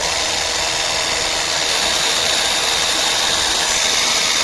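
A Leader cordless pressure washer (Lite 20V 28 bar or Ultra) sprays water with a loud, steady hiss and a motor hum. It stays constant and close throughout, with no talk.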